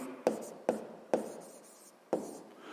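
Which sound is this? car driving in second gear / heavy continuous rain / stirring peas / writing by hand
writing by hand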